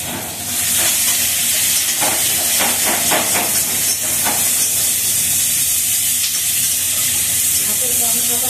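Onion drops into cumin already frying in a hot pan, setting off a loud, steady sizzle and hiss that holds for several seconds with a few stirring scrapes near the start.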